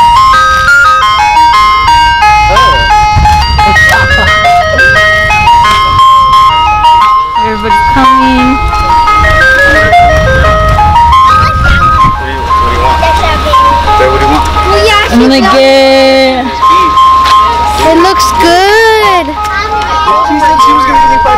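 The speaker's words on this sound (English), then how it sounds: "I'm about to go to the ice cream truck" Tinkling electronic jingle of an ice cream truck plays loudly and continuously, a repeating melody over an idling vehicle engine, with children and other people talking throughout.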